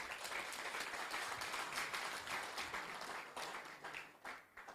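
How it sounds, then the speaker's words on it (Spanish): A church congregation applauds for the Lord, a broad steady wash of many hands clapping at moderate loudness that thins slightly toward the end. "Démosle un aplauso al Señor."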